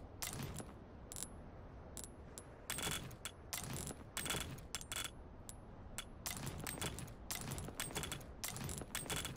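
Shotgun shells being crafted in the Resident Evil 4 Remake video game: a rapid run of clicking, ratcheting mechanical clacks and metallic clinks, loud and close, with no talking.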